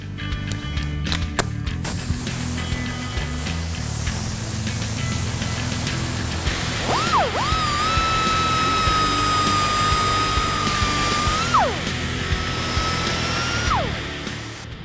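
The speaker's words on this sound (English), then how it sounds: "or used to be a 3-inch cutoff wheel." A 3-inch cutoff wheel, worn smaller, grinds through steel tabs on a Ford F-150 bump stop during an air spring install, a loud steady whine with a sustained pitched screech in the middle of the cut.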